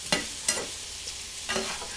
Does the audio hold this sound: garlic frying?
yes